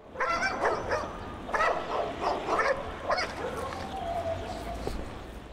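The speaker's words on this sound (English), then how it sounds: "Bordy spots a dog running the streets" A dog loose in the street barks and yips in repeated bursts, fairly close, with outdoor background noise throughout.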